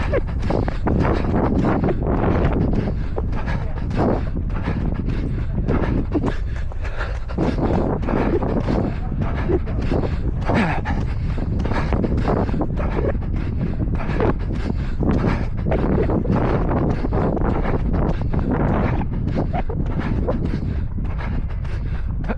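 Strong wind buffets the microphone during a 5k turkey trot road race, a loud continuous rumbling roar with gusty surges and faint footfall-like thuds throughout, no voices heard.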